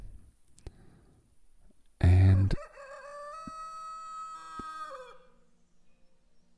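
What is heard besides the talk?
rooster crowing in the video game Lords & Villeins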